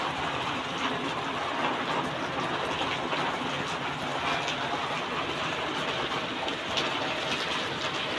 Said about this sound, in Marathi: केवढा मोठा पाऊस आहे. वारा बघ कशी.